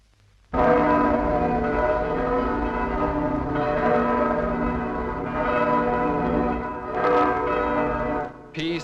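Rich, ringing church bell tones in San Felice with long overlapping harmonics sustain throughout, several bells pealing together clearly and steadily, with a brief swell near the end.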